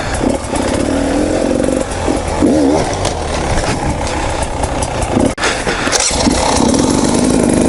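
A motorcycle engine runs loud and close throughout, rising and falling in pitch with quick throttle blips around a light brake tap, with no talk.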